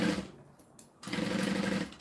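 A sewing machine stitches fabric in two runs: a steady, close mechanical whir, a brief stop, then a longer burst of even, rapid needle hum.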